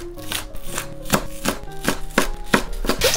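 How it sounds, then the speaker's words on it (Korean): A knife chops two green onions coarsely on a cutting board, making about eight crisp, evenly spaced knocks that are close and clear, with no speech. "쪽파 두 줄은 듬성듬성 썰어줄게요"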